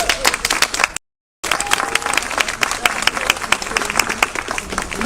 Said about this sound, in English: Huge round of applause for Gail.